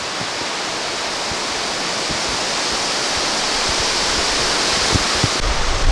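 Waterfall at Parc Baie-des-Rochers on the St. Lawrence River, a steady broadband roar of falling water that holds evenly throughout, close and loud, with no voices.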